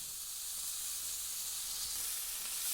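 Chickpea greens sizzle steadily in hot oil in a pan, a soft, even hiss that holds for the whole stretch with no voices.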